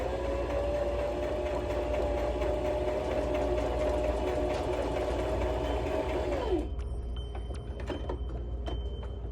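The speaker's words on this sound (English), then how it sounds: "You're going to slowly press down on your foot" A home sewing machine stitching as its foot pedal is pressed, a close, steady motor hum with a running mechanical whir for about six seconds, then slowing and stopping, followed by a few light clicks of handling.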